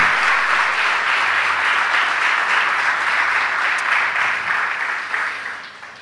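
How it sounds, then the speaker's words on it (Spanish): A church congregation at a Spanish-language worship service applauds with a sustained, dense wash of clapping that holds steady, then tapers slightly toward the end. "Dale un aplauso al Señor, aleluya."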